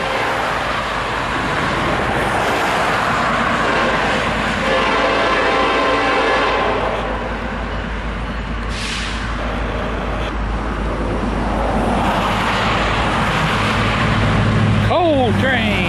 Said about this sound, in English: Coal train.